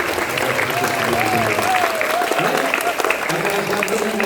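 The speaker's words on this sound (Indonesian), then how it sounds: "Kasih tepuk tangan dulu." A room full of people at an Indonesian school ceremony for National Education Day claps steadily and continuously, a sustained burst of applause with some voices mixed in.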